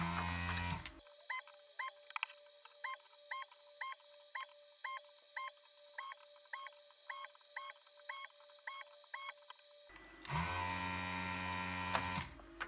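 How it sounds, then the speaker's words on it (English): A desoldering gun works on the PLA chip of a Commodore 64 circuit board, a steady electric pump hum with rhythmic clicking pulses that repeat for about nine seconds between louder bursts of noise at the start and end. "And we start desoldering with the desoldering gun."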